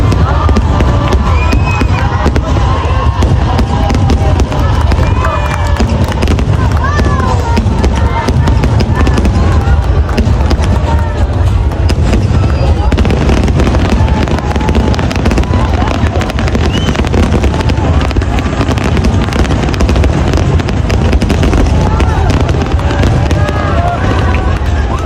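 Loud fireworks bursting at a pyromusical show at SM Mall of Asia, amid a large, noisy outdoor crowd, with cheering and chatter continuously filling the scene.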